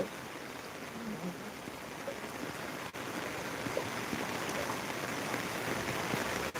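Steady rain falling in Velichala, a village in Telangana, a dense continuous hiss that stays at an even, fairly loud level throughout with no voices.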